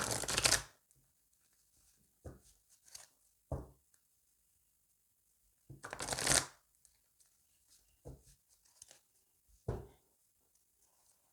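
Oracle cards are shuffled and cut in a quiet room: two rapid riffling bursts interrupted by scattered soft taps and card slaps, close and crisp.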